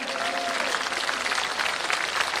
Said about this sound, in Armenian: Ծափահարեք և ողջ ունեք